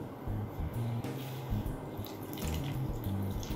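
Water is added a little at a time to homemade pizza dough in a mixing bowl, giving soft trickling and dripping splashes over a steady low background throughout.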